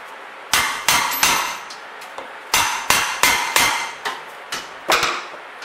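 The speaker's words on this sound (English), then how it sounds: "Tap it with a hammer." Hammer taps on valve keepers of a rebuilt 1966 Chevrolet C20 292 inline-six cylinder head: about a dozen sharp, close metallic strikes in uneven pairs and triples, with no talk.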